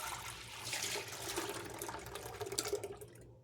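Sour raw milk pours into a pot for farmer's cheese, a close liquid gush and splash that swells and ripples before tapering off near the end.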